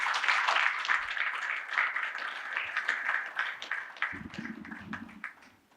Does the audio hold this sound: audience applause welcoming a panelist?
yes